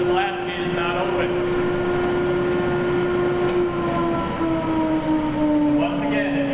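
A woodshop dust collector runs with its blast gate open and the collection bag inflating, giving a loud, steady whooshing roar with a sustained tonal whine that holds throughout.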